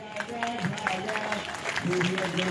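An outdoor crowd at a rally at Azad Maidan, Mumbai applauds for a guest. The clapping is a steady, moderately loud wash, partly masked by someone speaking over it.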